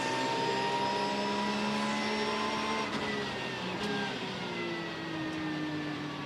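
Race car at Sebring in 2014 downshifting into a corner, its engine and transmission whining in steady high harmonic tones that slide in pitch, loud and continuous with no talk over it.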